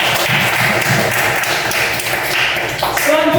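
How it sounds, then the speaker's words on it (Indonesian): A school class claps together in a dense, continuous burst of applause, close and loud, with a faint tonal ping near the end. "Oke, tepuk tangan untuk semuanya."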